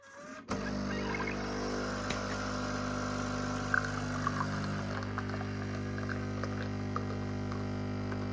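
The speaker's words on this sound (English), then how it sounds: "So yeah, we'll hit the espresso button." A Nespresso machine pumps an espresso shot from a Ueshima pod, a steady electric pump hum with a low droning buzz that starts abruptly and runs continuously, moderately loud and close, with no talking.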